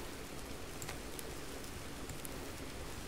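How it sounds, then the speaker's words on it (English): Steady, soft rain hisses in the video game Subsistence, a quiet, even patter with occasional faint droplet ticks and no talking. "is that rain? I can hear rain."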